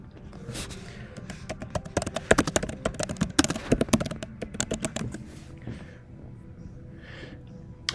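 Rapid irregular clatter of keys on a computer keyboard, close and fairly crisp, with bursts of quick taps that slow and trail off near the end.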